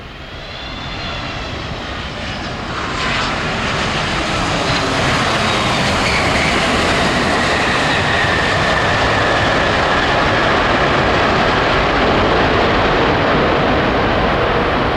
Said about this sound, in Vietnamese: bây giờ chiếc máy bay nhanh chóng hạ cánh xuống đường băng